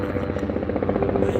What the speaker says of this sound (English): It's probably a traffic helicopter.